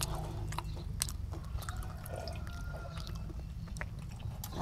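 Someone chews a crunchy yellow fruit, a close, quiet series of irregular moist crunches and squishy bites with soft clicks, set against a low background hum.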